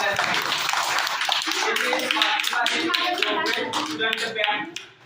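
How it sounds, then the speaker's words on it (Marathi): Audience applause at a school management committee felicitation ceremony in Gogwe, Panhala, dense steady clapping from many hands filling the room throughout, with voices murmuring underneath before it thins out at the end. "जोरदार टाळ्या बाजूला"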